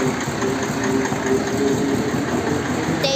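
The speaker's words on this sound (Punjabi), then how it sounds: "ਮੇਰਾ ਭਰਾ ਕੱਢਦਾ ਟਰੈਕਟਰ ਬਾਹਰ" A tractor engine idles and rumbles steadily nearby as the tractor is driven out, a constant loud mechanical drone throughout.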